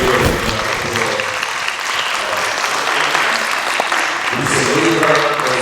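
Audience at a school board meeting applauding a retiring school employee marking 50 years of service, a loud, steady, sustained round of clapping from a sizable room with faint voices underneath.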